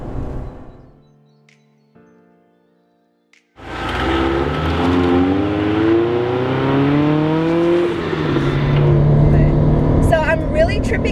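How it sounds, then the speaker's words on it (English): Quiet whine fades out, then a loud turbocharged Subaru BRZ engine roars in close and holds, rising and falling in pitch, ending with a brief chirping flutter of compressor surge. "I'm really tripping out at the compression surge"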